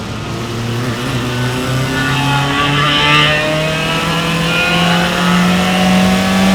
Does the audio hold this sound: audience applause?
no